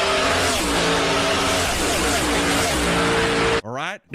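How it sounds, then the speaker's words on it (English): Roaring NASCAR race car engines at a stock car race, a loud continuous drone with crowd noise underneath, ending abruptly in a short, rising whine. "The reason we come to these races is for the loud engines and the crowd."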